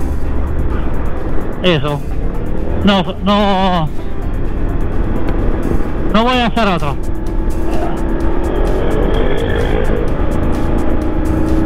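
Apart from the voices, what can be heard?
1999 Triumph Tiger motorcycle engine running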